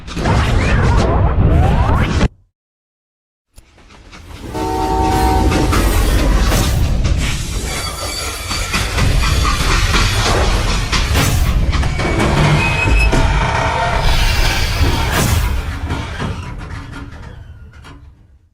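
A freight train rumbles loudly along the tracks in the Western shooter Call of Juarez Gunslinger, cutting out briefly to silence before the heavy rolling clatter and rattle return and carry on steadily.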